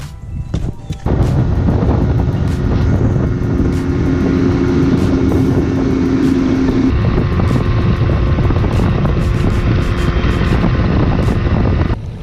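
Fishing boat motor idling toward a fishing spot in pouring rain, a steady loud low drone with rumbling texture that holds constant throughout, with sharp clicks and knocks scattered over it.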